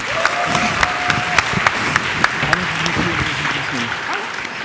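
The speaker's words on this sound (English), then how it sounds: "can we have a quick round of applause for Danielle and Marlene?" Conference audience applause during lightning talks at PyCon UK 2019, a steady broad wash of clapping from a seated crowd with a few sharper claps poking through and a brief tonal whine, voices faintly underneath.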